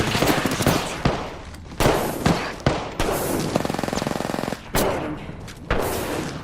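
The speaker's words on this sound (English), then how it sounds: "Getting shot by snipers." Apex Legends gunfire crackles in sharp bursts of rapid automatic shots separated by short gaps, loud and close throughout, with no talking in between.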